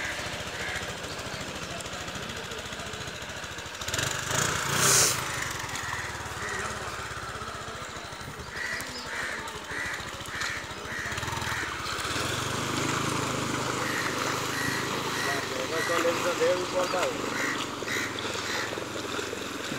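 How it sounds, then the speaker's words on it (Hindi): A Bajaj Discover motorcycle pushes through deep floodwater from the swollen Gandak river, its engine droning steadily and fairly loud for the whole stretch, with splashing churn around it and no talk. "अब ये बाइक भी निकलेगी, देखते हैं ये बाइक डिस्कवर कैसे निकलती है।"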